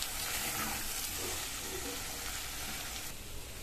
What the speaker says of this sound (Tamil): சேர்த்துட்டு நல்லா ஒரு பரட்டி விட்டுக்கணும்.